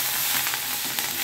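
Hot oil sizzling steadily as cumin seeds and asafoetida are fried for a sambar tadka, a loud, continuous close crackle with no voices.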